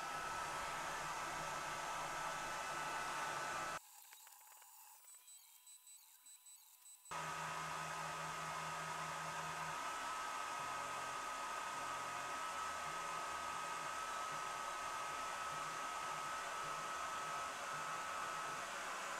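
A Swiitol C18 Pro 18W laser engraver marking a power-grid test pattern on stainless steel gives a steady fan-like hum with a brief cut-out, then resumes with faint stepped tones as it works.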